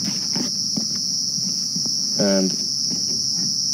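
Loud, shrill insect call of cicadas on a summer evening safari drive in the African bush, a steady high-pitched buzz running through the whole stretch under faint background sounds.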